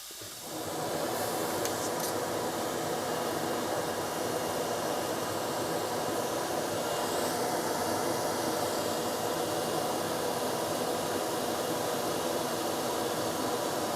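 A laser cutter slices through 17mm pine with full air assist, giving a steady, broad hiss like rushing air that holds unbroken and fairly close throughout.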